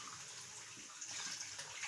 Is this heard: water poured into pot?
yes